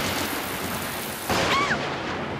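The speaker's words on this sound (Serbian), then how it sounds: "grmljavina je strašno glasna" Cartoon thunder rolls in a rainy scene, a loud rumbling crack arriving midway over steady rain-like noise, followed by a couple of brief whistling tones.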